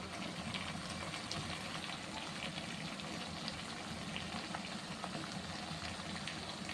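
Mutton sautéing for kosha in a pan gives a steady, soft sizzle and bubbling, a continuous low crackle with faint pops, heard alone and fairly quiet throughout.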